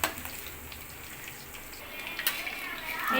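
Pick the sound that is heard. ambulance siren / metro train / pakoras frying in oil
pakoras frying in oil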